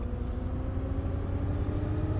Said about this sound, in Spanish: Suena fuerte este autobús, la verdad que sí.